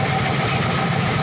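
Yamaha X-Ride motorcycle engine idling steadily while warming up, a continuous close, loud low rumble with no pauses and no voices over it.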